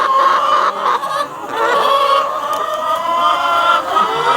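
Chickens and a rooster cluck close by in a backyard coop, a busy overlapping chorus of loud, agitated calls that runs without pause, with no talking.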